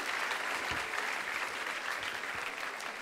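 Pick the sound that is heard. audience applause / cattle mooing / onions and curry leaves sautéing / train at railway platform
audience applause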